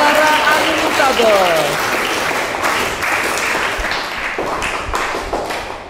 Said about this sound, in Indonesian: Beri tepuk tangan yang meriah kepada saudara Ali Murtado